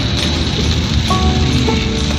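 Steady rain falls throughout, an even broadband hiss of drops with no clear breaks, fairly loud and close, with no voices over it.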